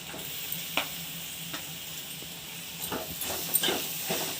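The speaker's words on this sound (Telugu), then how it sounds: "పసుపు పొడేసి నూనెలో వేస్తే బాగుంటుంది, పచ్చి వాసన రాకుండా" Turmeric powder tempers in hot oil for lemon rice, giving a soft, continuous sizzle and hiss with occasional light stirring taps near the end.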